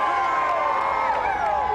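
Fans at the 1994 New York Rangers championship parade cheer and holler, a brief, loud burst of overlapping shouting voices up close.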